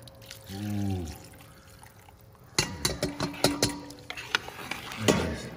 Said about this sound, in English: Add a little bit of water to that.